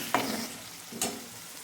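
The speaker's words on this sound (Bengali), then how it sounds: "প্রথমে মশলাটা কষে নিচ্ছি।" Masala spices frying in a pan for a Bengali fish head curry with katla, a low continuous sizzle broken by two quick scraping stirs, no speech.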